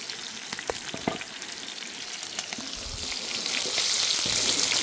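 Onions sizzle and fry in a hot pan with chicken and mushrooms for a chicken sauté, a close, steady crackle with light stirring clicks that swells louder toward the end.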